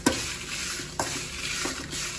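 Mango pieces for mavinakayi chutney roast in a hot pan, giving a soft continuous sizzle broken by a few sharp scrapes of a spoon stirring against the pan, close and fairly quiet.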